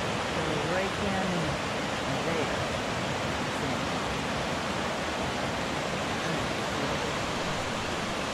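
A small creek along the Dosewallips River trail in Washington in autumn, flowing as a constant broad rush of water that fills the scene, steady and close, with no clear talk over it.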